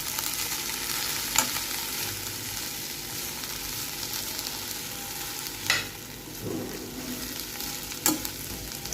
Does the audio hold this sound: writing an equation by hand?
no